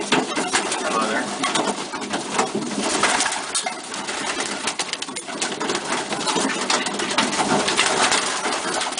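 Pigeons kept indoors, cooing amid a dense, noisy backdrop of fluttering, shuffling and other bird sounds, fairly loud and continuous throughout.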